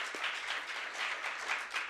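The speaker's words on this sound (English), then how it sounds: "can we give another round of applause to Ryan?" Brief, moderately distant applause from an audience at a Wikipedia Day NYC event, a steady wash of clapping with no voices over it.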